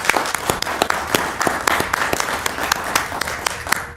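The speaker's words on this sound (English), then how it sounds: "Let's give all the students a round of applause." A school committee meeting audience claps for award-winning students, a short burst of fairly sparse, distinct hand claps at moderate loudness.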